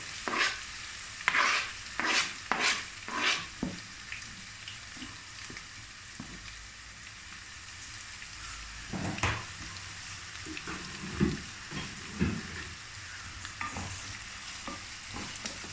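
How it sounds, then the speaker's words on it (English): Sliced onions hit hot oil in a pan with a string of sharp splashing crackles that settle into a quieter, ongoing fry, followed by scattered stirring clatters. "we are now going to empty the sliced onions into the oil."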